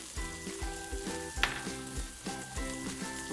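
Spices and granulated sugar frying in a pan for Palembang burgo, a steady close sizzle with rhythmic stirring scrapes and one brief sharper clatter partway through.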